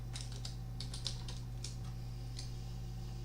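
Keys on a computer keyboard are tapped in a quick, irregular run of light clicks, typing a game command over a steady low electrical hum.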